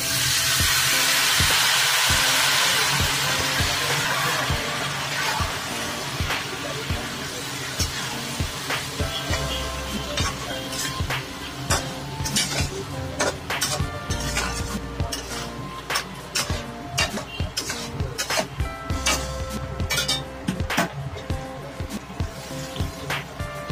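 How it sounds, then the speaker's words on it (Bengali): Boiled moong dal tipped into a pan with a catla fish head and stirred, a steady scrape of spatula against metal over a soft continuous sizzle, with clinks of utensils throughout. "সিদ্ধ করে রাখা মুগের ডালটা এবারে এর মধ্যে দিয়ে দিচ্ছি।"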